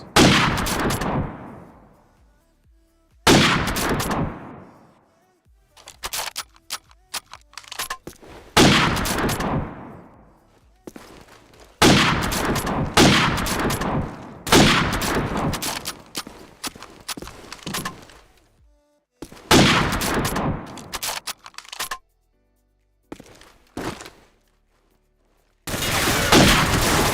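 Sniper rifle fire in the Call of Duty 4: Modern Warfare video game during a 1v1 free-for-all match, heard as a string of loud, sharp gunshots with ringing tails, spaced apart by stretches of near silence and softer bursts.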